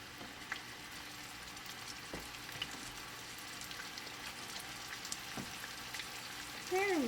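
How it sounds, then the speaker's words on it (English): Red onions sautéing in a pan give off a steady low sizzle with faint scraping stir sounds, continuous and moderately quiet, ending with a brief louder clatter. "and saute them until they get slightly caramelized. So Nagwa is going to put all the onions in."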